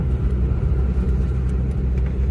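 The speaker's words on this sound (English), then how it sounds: "And yeah, very windy today," Wind buffeting through an open car window while driving on a windy, warm day, a steady low roaring rumble mixed with road and engine noise, loud and continuous with no talking.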